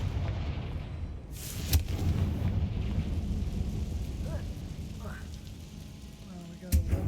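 In the Hogwarts Legacy video game, Confringo fire-spell blasts land as two sharp, booming bursts a few seconds apart over a steady rumbling game background, with faint voices in between.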